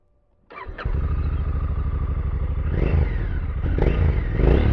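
A 2020 Honda CRF1100L Africa Twin motorcycle with a Yoshimura RS-12 slip-on exhaust cranks and fires up, then settles into a loud, throaty idle with a couple of blips of the throttle, close by.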